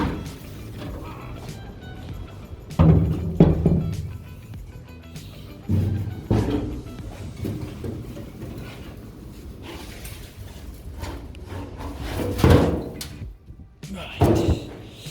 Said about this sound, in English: And then I will just quickly flip this door over.